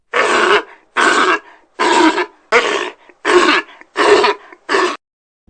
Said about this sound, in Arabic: صوت الفقمة.